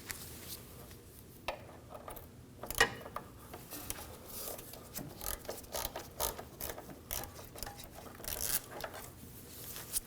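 A ratchet with an 8mm socket loosens an intercooler hose clamp on a 2009-2014 Ford F-150 3.5L V6, with quiet, close rapid clicking in repeated bursts, some creaks, and faint metallic handling noises.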